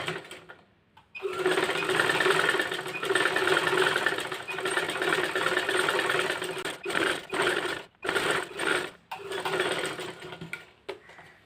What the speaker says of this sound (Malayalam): കണ്ടോ, ഇങ്ങനെ സ്റ്റിച്ച് ചെയ്ത് കൊടുക്കണം.